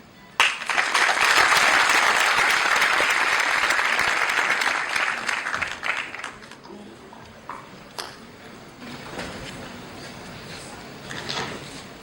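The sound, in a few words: audience applause for speaker Morgan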